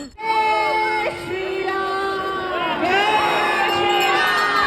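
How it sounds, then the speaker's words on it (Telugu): A festival crowd in a temple courtyard in America shouts Jai Shri Ram in loud, sustained, overlapping cheers and whoops during a Dussehra Ravana effigy burning. "గుడి ప్రాంగణం మొత్తం జై శ్రీరామ్ అనే అరుపులతో మారుమోగిపోతుంది"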